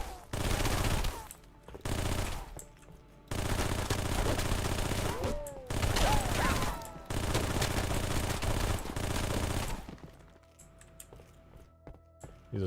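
Looping SMG fire from a Halo 3 mod, heard as several long bursts of rapid automatic gunfire broken by short gaps, loud and close, with a quieter stretch near the end.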